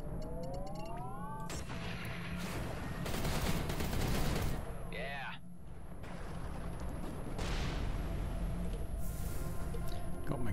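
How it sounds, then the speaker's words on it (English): Gauss gun in the space shooter Everspace 2 firing in repeated heavy bursts, loud crackling blasts with sweeping electronic tones between shots. "Gauss gun again now."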